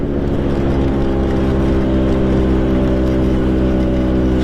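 Vespa PX MK1 scooter fitted with a VMC Super G 2.0 kit revs hard and close, a loud, steady two-stroke drone with strong, even harmonics held throughout and no talking.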